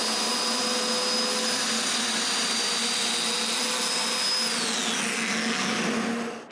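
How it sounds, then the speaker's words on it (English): A domino joiner cutting mortises in wood runs as a loud, steady, close-up whine with a vacuum-like rush. It holds for several seconds and then spins down at the end. "Now I'm ready to mark the placement of the mortises on two sides and cut them."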